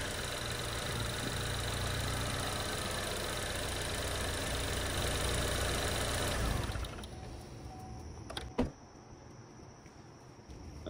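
A car engine idles steadily while a scan tool pulses its fuel injectors one at a time, a continuous running drone that drops away near the end, leaving a quieter background with a brief sharp click.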